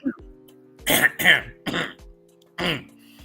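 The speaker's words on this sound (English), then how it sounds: "had to clear my throat for that one" Someone clears their throat several times in quick, raspy bursts, close by, with short pauses between each one.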